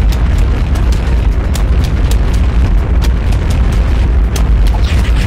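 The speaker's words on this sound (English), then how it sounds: "Well, that's a lot of explosions." Explosions from the video game Plants vs Zombies, a loud, dense barrage of booming blasts firing in rapid succession with no pause, bursts overlapping continuously throughout.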